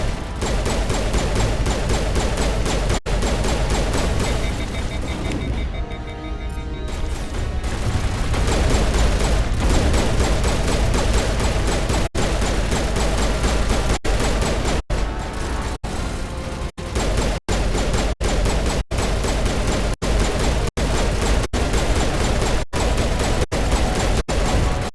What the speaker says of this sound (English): how do these sledgehammer rounds feel?